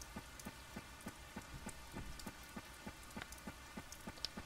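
Steady rain falls in the farming video game Harvest Moon: Save the Homeland, a constant hiss with soft, irregular droplet taps throughout, quiet and alone with no voices.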